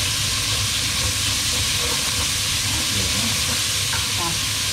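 Minced pork stir-frying with fermented shrimp paste in a hot pan, a steady loud sizzle and hiss running continuously throughout with no talking.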